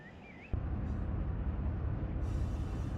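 A simulated freight train from the Run 8 game rolls through a Los Angeles rail yard, giving a steady low rumble of wheels and engine that swells up abruptly and then holds even, with no talking.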